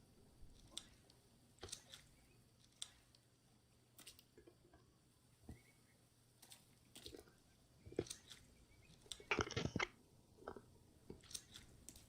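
Someone chews food close to the microphone during a Green Hell survival game livestream: faint, wet, irregular chomps and clicks over near-silence, with a louder burst of mastication near the end.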